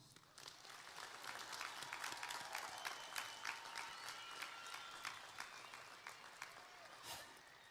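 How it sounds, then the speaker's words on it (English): A commencement audience applauds the graduating class, a steady, distant roll of many hands clapping that fills the hall for several seconds at a low, even level with a few sharper claps standing out. "If everyone would join me in giving the graduating class an applause."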